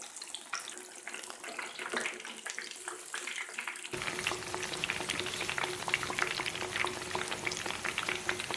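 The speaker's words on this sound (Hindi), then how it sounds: "तो 3 पीसेस एक दफ़ा मैं फ्राई कर रही हूँ" Pieces of fish fry in hot oil, Lahori style, three at a time, a steady crackling sizzle that gets louder and fuller partway through, close and continuous with no talking.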